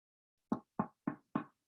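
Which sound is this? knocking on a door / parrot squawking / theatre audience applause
knocking on a door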